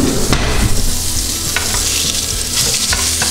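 Venison sears loudly in a sear pan, a dense, continuous close-up sizzle and crackle of hot oil and meat juices with brief spatters, heard alone.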